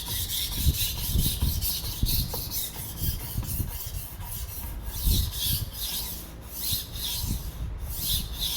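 Steady back-and-forth rasping strokes of a chipped kitchen knife blade being sharpened, close and continuous with a regular rhythm and brief pauses, no talking.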